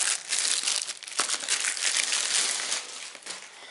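Continuous crinkling of a plastic bag wrapping a Märklin model train box, close and fairly loud, with crisp rustling bursts throughout and no talking.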